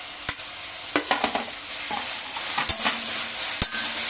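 Tomatoes and curry leaves sautéing in an iron kadai, a steady sizzle broken by a run of sharp spoon scrapes and clinks against the metal, close and moderately loud with no talking.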